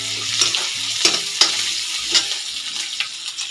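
Onions fried in a pan until reddish give off a steady sizzle punctuated by several sharp spatula scrapes and stirs, all under soft background music, with no voices.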